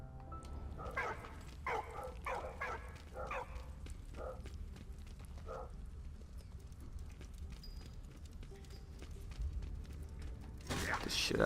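Dog barks from the World War I video game Valiant Hearts: a handful of sharp barks in the first half, then quieter game ambience with a louder burst near the end.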